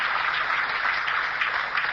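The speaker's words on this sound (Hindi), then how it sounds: "अरे जोरदार तालियां अपने लिए।" Steady, dense clapping from a crowd fills the whole moment, loud and continuous with no voices breaking through.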